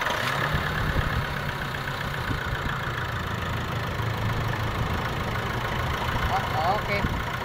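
Nissan Navara Calibre engine idling steadily with the air-conditioning compressor engaged after a compressor pulley assembly replacement, a constant close mechanical drone throughout with no breaks.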